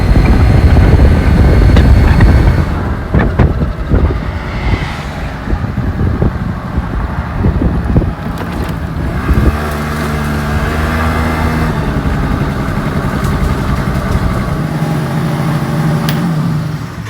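A Yamaha Vino scooter with its muffler plug removed runs as a loud, raspy, steady engine drone, revving hard at first and then settling into a constant humming ride.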